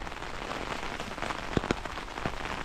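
Steady early-morning rain patters on a surface nearby on a hillside, with a few louder drops tapping through the constant hiss.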